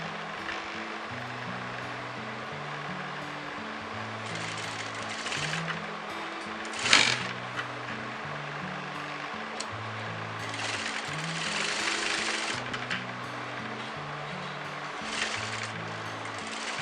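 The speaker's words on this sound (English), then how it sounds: "I'm sewing at the exact marginal point of the canvas." A sewing machine stitches along a canvas half collar in a steady, continuous whir of rapid needle strokes, with one brief clack partway through and no talking.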